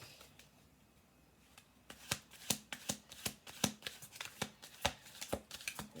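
Playing cards riffle-shuffled during a card reading, starting faint and growing into a quick series of sharp, crisp riffles and snaps about two to three per second, close and clear with no voices.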